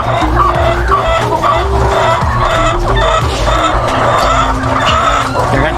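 Laying hens on a Filipino layer chicken farm cluck and squawk in a dense, continuous chorus, loud and close, with a steady low hum running underneath throughout.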